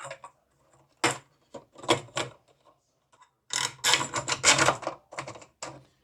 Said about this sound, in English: match the holes with the long thumb bolt and washer and secure each into place